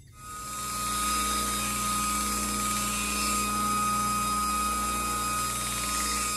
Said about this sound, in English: take this cutting edge up the grits, get it sharp